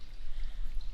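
Water gushes from a released creek dam into a gold sluice, a steady close-up pouring rush.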